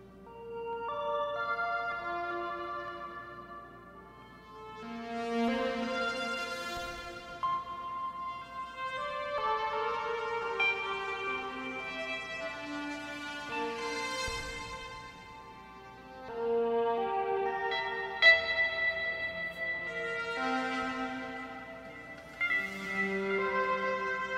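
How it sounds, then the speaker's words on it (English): Layered synthesizer notes swell and overlap, each ringing out into long, washy reverb tails that linger beneath the next chords. "I like big reverb, so I have big tails hanging out here."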